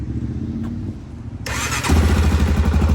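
A cold Honda 400ex ATV engine, fire-damaged and on choke, is quiet at first, then cranks and catches sharply halfway through and settles into a loud, throbbing idle up close.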